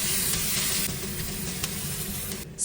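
Chopped onion and garlic sizzling in hot oil in a heated pan, a loud, steady, close crackling hiss that continues throughout and cuts off abruptly at the end, with no voices.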